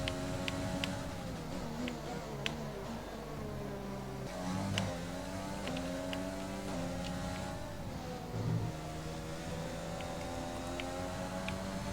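Formula 1 race car engines in F1 2020 career mode, a steady high-pitched whine with rising and falling gear tones as a car overtakes on a straight, with short ticking transients and a loud, continuous drone throughout.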